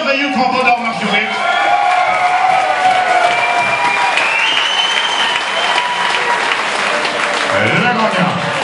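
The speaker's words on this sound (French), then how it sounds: "applaudissements pour ce merveilleux combat d'art martial." A crowd at a martial arts fight night applauds and cheers after a bout, with loud sustained clapping and whoops while an announcer's voice carries over it.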